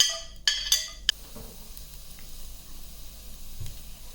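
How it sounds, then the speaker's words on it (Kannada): Garlic goes into about three spoons of hot oil in a pan: a few sharp metallic clinks and clatters open, then a soft, steady frying sizzle continues quietly underneath. "ಇವಾಗ ಎಣ್ಣೆ ಕಾದಿದೆ, ನಾನು ಗಾರ್ಲಿಕ್ ಹಾಕೋತಿದ್ದೀನಿ."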